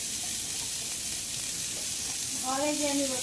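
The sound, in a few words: onions frying in oil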